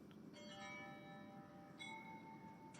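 Bell chimes from a live street camera in Ukraine, a few clear ringing tones sustaining and decaying at a distance over steady background noise, with a second struck chime near the end.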